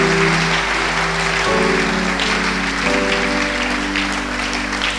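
A church congregation applauding during a sermon, a dense sustained wash of clapping that is loud and steady throughout, with held musical tones underneath.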